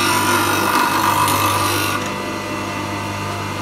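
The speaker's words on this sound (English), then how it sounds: "Those sparks that are now being produced off of an aluminium oxide wheel." A turning tool being sharpened on an aluminium oxide grinding wheel gives a loud, continuous grinding hiss over the motor's steady hum, easing off slightly partway through.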